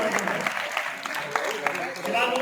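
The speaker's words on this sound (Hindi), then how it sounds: "शहबाज मुगल साहब के लिए तालियां थी" Audience applause at an Islamic calligraphy exhibition awards event, a steady wash of clapping hands lasting throughout, with voices speaking over it.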